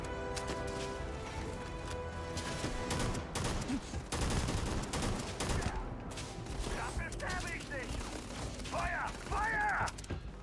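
Heavy weapon fire in the sci-fi game Starfield, dense bursts of shots and mechanical clatter layered with game effects and music, with someone talking over much of it.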